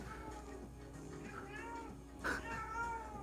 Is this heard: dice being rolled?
no